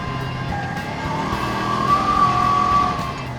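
A gas Kubota Sidekick utility vehicle drives along with a steady, moderate engine drone and a sustained tonal whine, no talking heard.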